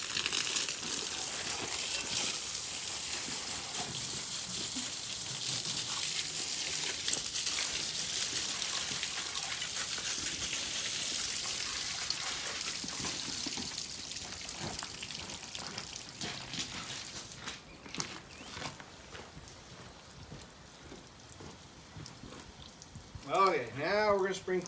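A steady spray of water soaks down a Scout engine before washing, a continuous hissing wash that runs for most of the stretch and fades toward the end, with a few brief clattering sounds near the close.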